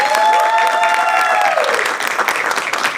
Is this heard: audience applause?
yes